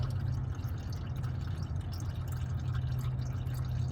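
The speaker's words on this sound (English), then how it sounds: "I'll go ahead and let that continue to drip." Used engine oil from the drain of a 2022 Subaru WRX runs in a steady stream into a catch pan, with a constant close liquid patter and a low hum underneath.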